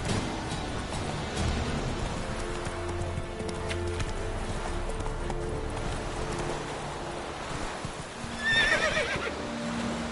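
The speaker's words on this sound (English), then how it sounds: "Run, Roach." A horse galloping in The Witcher 3 video game: continuous drumming hoofbeats with rumbling movement, and a sharp neigh rising near the end.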